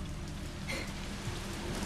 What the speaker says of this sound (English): Wow, that's a lot of rain!